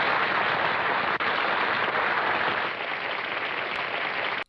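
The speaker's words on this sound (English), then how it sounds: "Let's give this brave woman a round of applause." A studio audience applauds a guest with dense, sustained clapping that stays loud and even for several seconds before cutting off abruptly.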